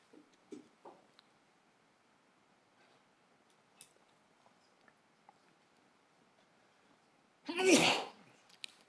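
A single loud, sharp sneeze bursts out near the end of a quiet stretch filled with faint taps and rustles.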